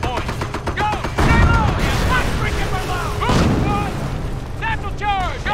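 Battle gunfire in Company of Heroes: bursts of rifle and machine-gun fire with booming blasts, loud and continuous, while shouted voices call out over the fighting.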